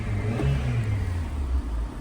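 A turbocharged Japanese-market car engine rumbles deep and close, rising and falling in a short rev with a heavy, steady low-end growl throughout and no voices.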